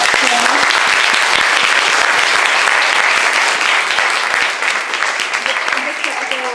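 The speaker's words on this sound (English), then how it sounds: "Can we just give another round of applause for that panel?" A festival audience gives a panel on the incarceration of women a loud, dense round of applause, sustained clapping that eases slightly toward the end, with a faint voice briefly audible.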